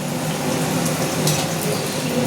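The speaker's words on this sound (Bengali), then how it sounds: "এই যে মালপোয়া ভাজা হচ্ছে" Malpua deep-frying in hot oil during a home Janmashtami festival, a loud, steady hiss and crackle that runs continuously without a break.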